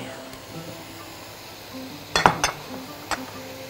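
A spoon clinks against a pot while béchamel sauce is stirred and milk is added, a few sharp metallic taps over a low kitchen background.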